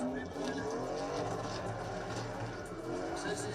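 V8 drift cars rumbling on a track during drift series qualifying in Indonesia, a steady low drone from a distance, faint and continuous with tire noise.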